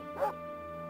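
A single short dog bark from the video game Mizzurna Falls, one quick yip over a quiet steady background hum.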